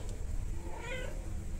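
A street cat that came to a home at night gives one clear, fairly close meow in the middle of a quiet background hum, with no talking.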